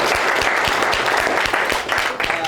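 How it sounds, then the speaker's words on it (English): An audience at a property investing Q&A claps in a dense, steady burst of applause that fills the whole stretch evenly and loudly. "Give yourself a round of applause"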